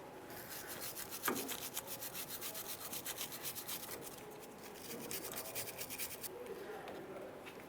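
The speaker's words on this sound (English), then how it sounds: "we'll continue on with some penetrant and of course a wire brush, trying to clean up the threaded portion" Wire brush scrubbing the threaded end of a parking brake cable on a 1994-2001 Dodge Ram 1500, quick rhythmic rasping strokes close by, with a knock early on and a faint voice in the background.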